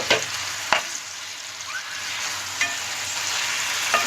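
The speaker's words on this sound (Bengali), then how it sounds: "এর মধ্যে আমি দিয়ে দিচ্ছি ভেজে রাখা মাংসগুলো ভালো করে নেড়ে চেড়ে আমি একটু কষিয়ে নিব" Pre-fried chicken pieces stirred into cooked spice masala over medium heat sizzle steadily up close, broken by several sharp spatula scrapes against the pan at irregular intervals.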